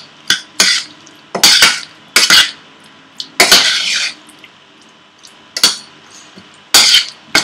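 Prawns being mixed in a chilli marinade in a bowl: a series of sharp clinks and scraping stirs, close and clear, in uneven bursts with quiet gaps between.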